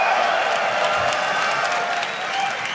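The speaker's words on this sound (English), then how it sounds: "rightful applause after that victory for you guys" Crowd applause for a winning team at a League of Legends esports finals event, dense and steady with some cheering mixed in, filling the hall without pause.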